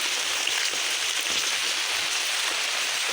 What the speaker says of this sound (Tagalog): Naliligo sa ulan eh.